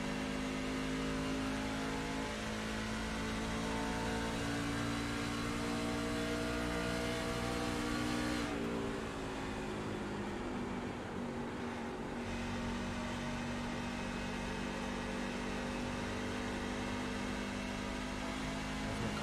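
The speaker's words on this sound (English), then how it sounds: "He's just feathering the throttle here." Speed truck engine in an NSRL ONE3 Speed Truck Series race, with the driver feathering the throttle: a loud, steady, close engine drone with sustained tones and a brief dip in the middle, no voices.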